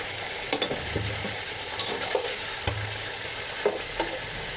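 Chicken pieces frying in hot oil in a pan for a chicken roast, a steady low sizzle with occasional sharp spattering crackles and faint utensil stirring, fairly close, with no talking.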